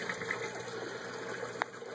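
Water pumped and circulating through the sump tank of a 150-gallon backyard aquaponics system, a steady close gurgling flow with a faint steady whine above it.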